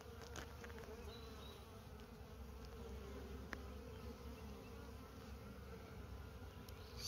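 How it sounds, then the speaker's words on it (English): Honey bees buzz steadily around a mating nuc that holds a queen cell, a dense, constant hum close by with no voices. "So this third mating nuc only has one queen cell, but they're keeping it nice and warm"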